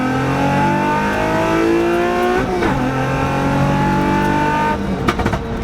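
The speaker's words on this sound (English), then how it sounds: "you can hear like little rocks getting swooped up by the tires just hitting the wheel well" Lexus IS300 sedan driving at steady speed with a continuous engine drone and road noise, small rocks kicked up by the tires ticking against the wheel wells in a few brief bursts.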